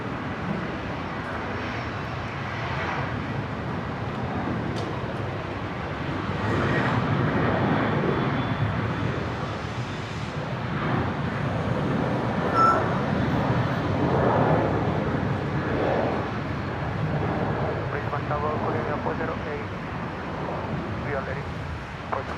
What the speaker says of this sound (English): We should see the Qantas 330 depart first.